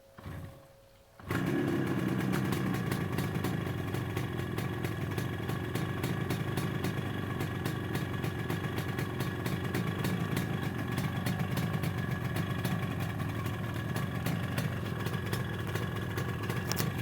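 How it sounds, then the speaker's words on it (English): A 1973 Yamaha RD350 two-stroke motorcycle fires up from a cold start after a brief quiet moment. It then settles into a loud, steady, buzzy idle that runs close and continuous with no talking. "Today, let's cold start this 1973 Yamaha RD350."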